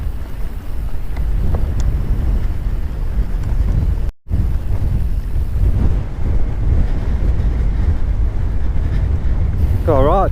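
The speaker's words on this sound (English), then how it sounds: "Got right wind on at this point, where it's really blowy." Strong gusts buffet a GoPro microphone during a mountain-bike descent at Chatsworth, a loud continuous low roar filling the whole clip with a brief dropout midway.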